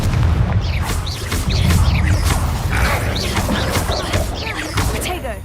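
Confringo blast spells fire in the Hogwarts Legacy video game, a rapid run of loud booming, crashing impacts in quick succession, with busy combat effects layered throughout.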